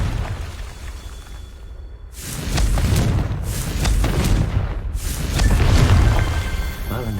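The Confringo fire spell in Hogwarts Legacy goes off in a series of loud booming blasts, several explosions in quick succession over a steady low rumble, with a voice calling out.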